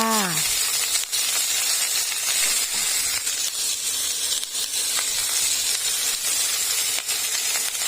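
Broccoli and peas being stir-fried in a pan with carrots for a mixed vegetable dish: a loud, continuous hissing sizzle, close up, with faint scraping ticks through it and no speech.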